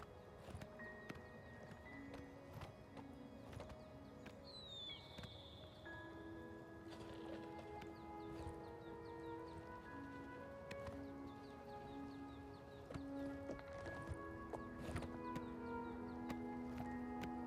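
Horse hooves clip-clop steadily on a trail in the game Oblivion Remaster, faint and rhythmic beneath sustained ambient music tones and occasional bird calls.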